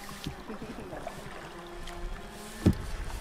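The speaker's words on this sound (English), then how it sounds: "Paddling a kayak with one hand does not work." A kayak paddled one-handed on water off Vancouver Island, with soft splashing and dripping strokes under wind, and a louder knock of paddle against hull near the end.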